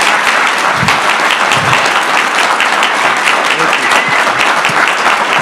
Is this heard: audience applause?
yes